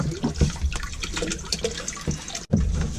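Water from a leaky toilet pump system aboard a small sailing boat sloshes and gurgles close by in short irregular splashes and drips, with a brief dropout near the end.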